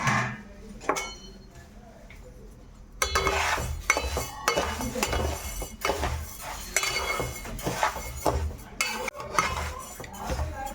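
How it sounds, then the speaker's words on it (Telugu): Urad dal tipped into a hot kadai and stirred, with metal clatter and scraping of a ladle against the pan, dense and continuous at close range, quieter at first then busier, with faint light sizzling underneath. "కడాయి బాగా హీట్ అయిన తర్వాత మినపప్పు అంతా వేసేసుకోవాలి బాగా"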